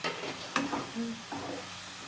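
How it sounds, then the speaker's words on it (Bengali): Whole spices fry with chicken in a pan, giving a soft, steady sizzle broken by a few scraping stirs of a spoon, close but fairly quiet with no talking. "কিছুটা চিকেনের ওপরে দেবো আর কিছুটা এখন ভাজার মধ্যে মিশিয়ে দেবো যাতে স্মেলটা ভালো আসে"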